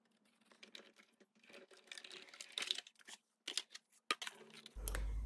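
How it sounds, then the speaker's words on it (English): A Sizzix fold-away die cut machine cranks a die through material, producing a series of close clicks and ratcheting crackles that build, then end in a low steady hum. "So I'm going to use my Sizzix fold away die cut machine and see if I can do a good job with this"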